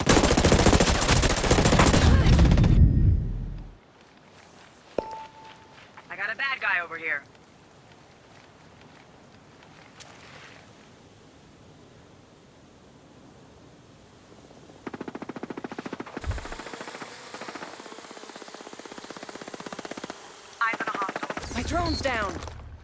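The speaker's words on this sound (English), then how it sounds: "I hear gunfire." Gunfire in a Ghost Recon Breakpoint PVP match opens with a dense, loud burst of rapid shots, drops to a quieter stretch with voices and scattered sounds, then returns as another heavy burst at the end.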